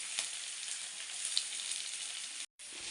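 Chana dal and mustard seeds sizzle in hot frying oil in a home kitchen, a steady, soft crackling hiss with a brief dropout near the end and no talking.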